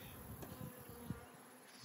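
Honey bees buzz around a hive, a faint steady drone with a few brief louder passes of individual bees close by.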